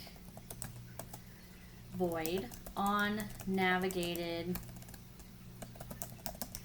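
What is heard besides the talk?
typing on a computer keyboard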